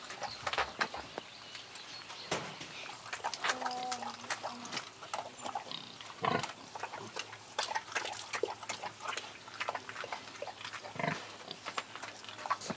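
Pigs on a farm grunting and snuffling in scattered bursts across the stretch, with occasional louder squeals and rustling, fairly close and without talk.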